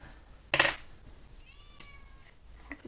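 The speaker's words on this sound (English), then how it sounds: "Hear my cat meowing outside the window." A single short cat meow from outside a window, loud and close, followed by quiet room sound with a faint chirp or two.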